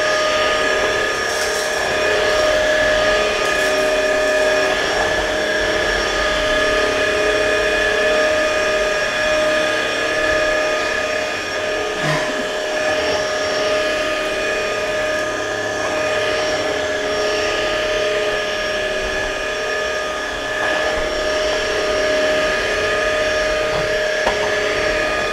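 An Ultenic U20 cordless stick vacuum cleaner runs continuously with a steady high-pitched motor whine and airy rush, close and loud throughout.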